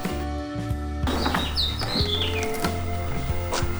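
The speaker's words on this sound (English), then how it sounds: "Did you hear that bird just chirping as we came out?" A bird chirps a few high, quick notes over a steady low hum and rustling background, fairly close, on a house patio.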